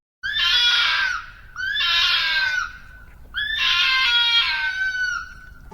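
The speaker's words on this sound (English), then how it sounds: "I like the screams at night." Loud animal screams from the Minecraft video game at night, three long harsh cries of a second or more each, separated by short pauses and heard alone without talk.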